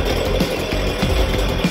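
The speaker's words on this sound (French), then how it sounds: "Et... Une tronçonneuse." A chainsaw cutting through material, a loud, steady, close-up buzzing roar that drives on without a break for the whole stretch.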